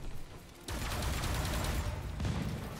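Machine-gun fire erupts in Marvel's Spider-Man Remastered, a sudden loud, dense burst of rapid shots that starts after a brief quieter moment and keeps rattling without pause, with a second surge near the end.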